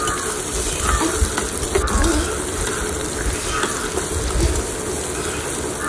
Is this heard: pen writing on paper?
no